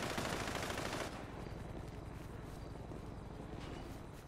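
Rapid automatic gunfire from a police helicopter chasing a car in GTA 5 FiveM roleplay, a dense continuous rattle that is loudest in the first second and then carries on steadily at a slightly lower level.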